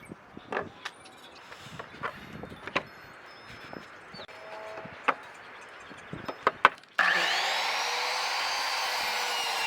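Pallet wood boards being cut square: scattered close knocks and handling clatter of wood, then a power saw suddenly starts loud and runs in a steady whine to the end.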